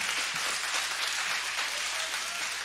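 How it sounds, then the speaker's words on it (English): A church congregation applauding during a sermon: a soft, steady wash of many hands clapping at a distance, continuous and even, with no voices on top. "Give Jesus a hand right there."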